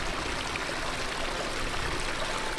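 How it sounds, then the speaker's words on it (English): A small creek washing across a hiking trail in a desert valley, a steady, close rushing and gurgling of water that fills the whole clip without pause and with no talk. "It looks like there's now a creek where the trail used to be."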